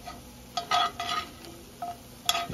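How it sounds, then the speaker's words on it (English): Bread sautéing in olive oil for a fattoush salad, a quiet sizzle broken by several scraping stirs and clinks of a utensil against the pan. "just let them crisp up in that olive oil. You're not deep frying. You're just kind of like sauteing down."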